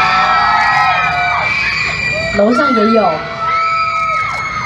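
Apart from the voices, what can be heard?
fans screaming and cheering at an autograph signing event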